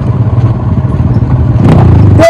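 A dirt bike rides off-road on a rough night trail in Palpa, its engine a steady low rumble with clattering over bumps, building louder near the end with a brief rising rev.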